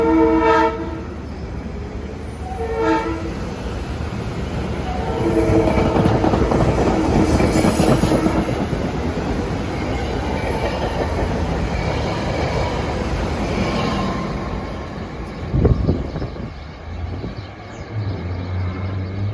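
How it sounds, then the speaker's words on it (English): A SEPTA Silverliner IV commuter train rumbles past with loud, sustained horn blasts near the start, then continuous rail noise and wheel clatter fading into a steady rumble. "Lots of horn action, even though these are Silverliner IVs."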